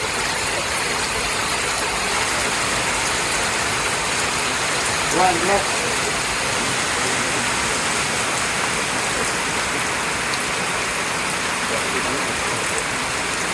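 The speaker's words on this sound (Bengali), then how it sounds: "কি পরিমাণ বৃষ্টি" Heavy rain pours steadily in a village setting, a dense, even hiss across the whole stretch with a couple of brief knocks partway through and no clear voices.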